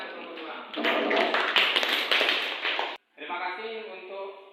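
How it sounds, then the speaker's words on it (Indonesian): A classroom of students claps for a presentation group in a burst of dense, close applause that cuts off, followed by brief talking. "Tepuk tangan untuk kelompok 2."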